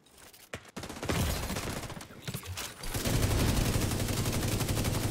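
Gunfire from The Division 2 Dark Zone PvP play: rapid automatic bursts crackle loud and close, starting with a few sharp shots and settling into sustained, dense firing with no talk.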